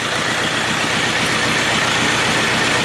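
A 1999 Triumph Trophy 1200 motorcycle engine running at a steady idle after a restart, a loud, continuous low rumble held evenly throughout with no voices.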